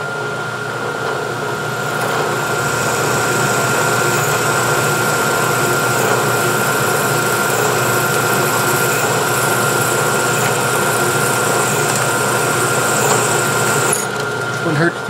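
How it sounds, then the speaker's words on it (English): Drill press boring a hole in a metal carriage stop body in a home machine shop: a steady, loud mechanical whine and motor hum running continuously for about fourteen seconds, then stopping abruptly. "I'll go ahead and drill a hole right here."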